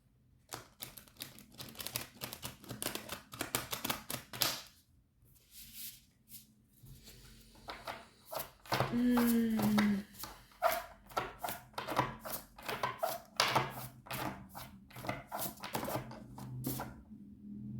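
Oracle cards shuffled by hand, rapid crisp riffling clicks in bursts with brief pauses, close up and without speech.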